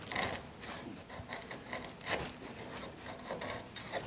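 Router plane with a triangular blade shaving a shallow cut in wood, giving soft, quiet rasping scrapes in short repeated strokes, close by, with no voices.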